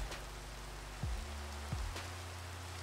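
Steady rain hisses in a Minecraft modpack (FTB Continuum), an even broadband patter that holds throughout. A few low sweeping tones drop in twice over it, with no talking.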